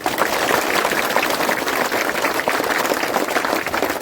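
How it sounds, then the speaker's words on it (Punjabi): Sustained applause from a crowd at a kabaddi players' gathering in a village, dense and even clapping that holds steady throughout at a moderate loudness. "ਤਾੜੀ ਮਾਰ ਲਓ ਇੱਕ ਵਾਰੀ"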